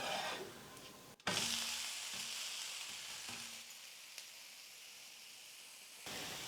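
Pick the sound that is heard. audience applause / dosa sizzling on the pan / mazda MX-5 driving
dosa sizzling on the pan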